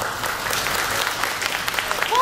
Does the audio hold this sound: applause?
yes